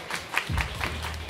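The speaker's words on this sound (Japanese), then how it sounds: "バトルしたお二人に大きな拍手をお願いします。" Audience applause for two performers after a youth rap battle in Japan, a brief diffuse wash of clapping with a low murmur underneath.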